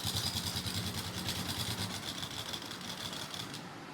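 A sewing machine stitches a neckline facing strip onto a kurti in a steady, fast, rhythmic whirring chatter. It runs continuously at close range without any talk.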